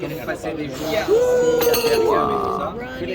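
Cutlery clinks and scrapes against a plate while a tortilla is cut in half, with a person talking over the sharp, brief contacts.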